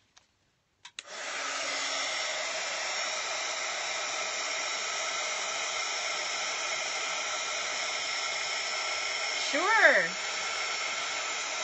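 A hair dryer blows over a wet watercolor flower painting, switching on after a couple of clicks and a short spoken reply, then a steady close whir that briefly wavers in pitch near the end.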